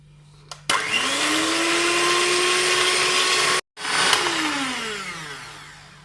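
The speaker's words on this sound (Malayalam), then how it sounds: "എന്നിട്ട് ഇത് നന്നായി ഒന്ന് ഫ്ലഫി ആയിട്ട് വരുന്നത് വരെ ഒന്ന് ബീറ്റ് ചെയ്തെടുക്കാം." An electric egg beater whips eggs, vanilla and sugar for a cake batter. Its motor switches on abruptly to a loud, steady whirring whine, stops briefly, then restarts and winds down, close up, with no talking.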